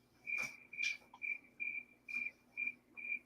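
A cricket chirping sound effect plays as a string of about seven short, high, steady chirps in an even rhythm, faint and alone.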